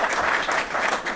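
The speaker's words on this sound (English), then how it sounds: "please give them a great round of applause" A brief stretch of steady, full applause from an audience at an award ceremony, welcoming Hungarian visitors.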